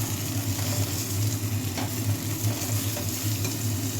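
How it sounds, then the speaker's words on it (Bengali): Garlic and tomato frying in a pan over lowered gas heat, a steady close crackling sizzle with soft stirring scrapes running throughout, no voices. "এই যে রসুনটাও ভাজা হচ্ছে, একই সাথে টমেটোটাও কিন্তু ভাজা হচ্ছে"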